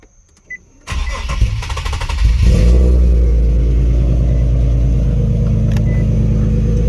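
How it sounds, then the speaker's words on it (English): After a brief click and starter crank, an Infiniti G37 sedan with an ISR full aftermarket exhaust cold starts loudly and settles into a deep, throaty idle with a steady rumbling exhaust note. "That's cold start"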